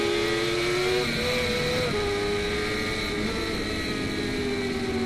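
Onboard superbike engine at Utah racetrack during Race 2, a loud continuous high-revving drone close to the rider, with pitch dropping in quick downshift steps as the bike slows from fast turn 6 toward the 7-8 double apex.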